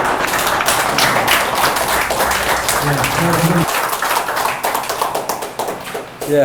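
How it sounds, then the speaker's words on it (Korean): An audience applauds the mayor of Sejong at a gathering, a dense wash of clapping with scattered taps and thuds that thins toward the end, voices murmuring beneath it. "시장님께 큰 박수 한번 부탁드립니다"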